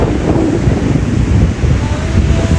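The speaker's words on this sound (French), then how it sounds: "l'eau me touche à peine et là une énorme vague passe." A large ocean wave surges onto a sandy beach in Greece, a continuous loud wash of surf mixed with heavy wind buffeting the microphone, with no voices present.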